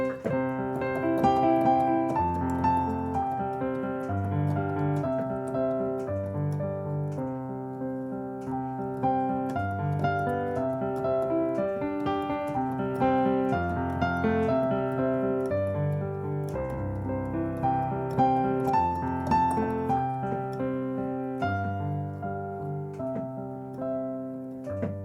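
An advanced piano piece played with color blocks combines melody and chords in a steady, gentle flowing pattern with ringing sustained notes throughout, played solo at moderate volume with no voices.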